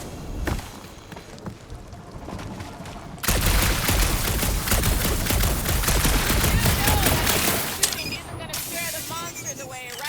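Sustained rapid gunfire in the video game Marvel's Guardians of the Galaxy, a dense stream of crackling shots that starts abruptly and runs several seconds, loud and close, with brief chirpy effects near the end.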